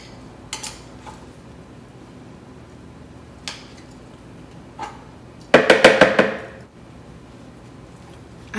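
Metal tongs scraping food down the sides of a pan or blender jar while cooking squash purée: a few sharp isolated clinks early on, then a quick loud burst of rapid scraping and rattling clatter near the end.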